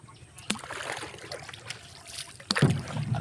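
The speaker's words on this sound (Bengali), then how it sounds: "আর ভাইস্তি খুব দক্ষতার সাথে নৌকা চালাইছে" A rowboat moves on swollen monsoon river water, with soft sloshing, paddle splashes and a couple of sharp knocks under faint background talk.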